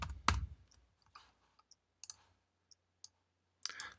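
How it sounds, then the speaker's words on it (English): Quiet, sparse keystrokes on a computer keyboard: a handful of separate clicks spread across a few seconds, with one sharper tap at the start and a small cluster at the end, in an otherwise silent room. "I'm going to type"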